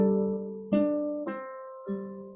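A short ukulele fill of three plucked notes, open fourth string, a pull-off, then the open fourth string again, each note ringing and fading, played alone with no talking.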